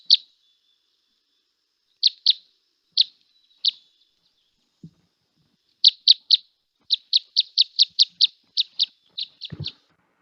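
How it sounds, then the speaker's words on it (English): A recorded finch song plays as a weak, squeaky, flat-sounding series of thin chirps, first spaced out, then a fast run of repeated notes near the end. "Kind of a flat sounding bird to me. It's kind of weak and squeaky and flat sounding."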